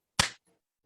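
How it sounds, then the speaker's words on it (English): One sharp hand clap, used as an emergency signal in place of a whistle, is close and loud and then quickly fades into silence with a faint trailing echo. "pwede siya mag-tap or mag-clap"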